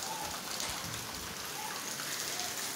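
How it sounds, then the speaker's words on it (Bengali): Steady, dense rainfall pours down on surfaces close by, a continuous even hiss with no breaks and no voices. "এই জন্য বৃষ্টিটাই আপনাদের সামনে তুলে ধরলাম"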